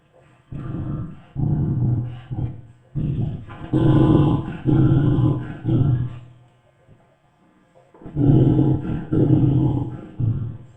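A dog growls in long, deep, rumbling bursts, several sustained snarls close by separated by brief pauses and one longer quiet gap.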